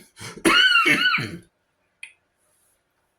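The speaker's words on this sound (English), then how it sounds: "I haven't coughed this much all day" A loud, harsh throat clearing and cough burst, followed by a couple of faint, brief clicks in otherwise near silence.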